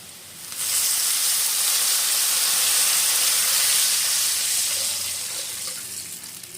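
Water poured onto golden-brown fried onions in a hot pot for Kolkata-style chicken biryani bursts into a loud, steady steaming sizzle that holds for several seconds before easing off slightly.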